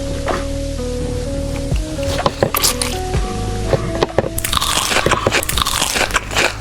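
Cheese with spicy sauce being eaten mukbang style, close up, with crisp bites, crunches and wet squishy chewing over a steady low background hum.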